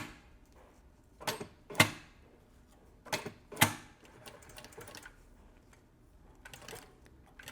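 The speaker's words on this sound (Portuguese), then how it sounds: "Vou até dar um pontinho para trás e um para frente." A domestic sewing machine stitches the end of a seam with a backstitch, giving a few short separate mechanical bursts of whirring and clicking, close and moderately loud, with quiet pauses between them and no talking.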